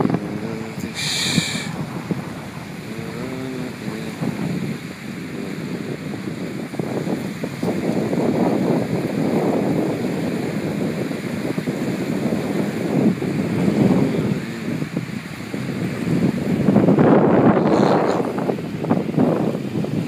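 Sea waves wash onto a sandy beach while steady wind buffets the microphone, a continuous loud roar of surf with surges rising and falling, alone without talk.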